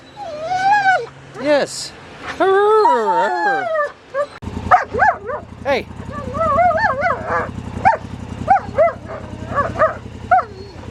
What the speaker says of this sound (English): Good morning, dogs.